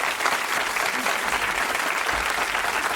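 Audience applauding a comedian after his set at a comedy show, a dense, loud burst of clapping that fills the whole moment without pause.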